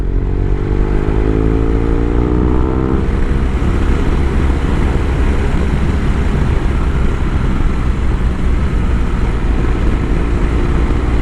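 A BMW R1200 RS motorcycle ridden on the road, its engine droning steadily and loud with heavy wind rush, a rising gear tone early on, continuous with no talk.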